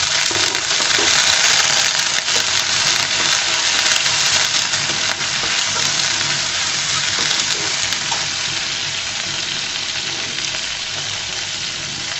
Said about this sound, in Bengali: পেঁয়াজগুলো যখন হালকা ভাজা হয়ে যাবে এখানে দিয়ে দেবো আমি চিংড়ি মাছ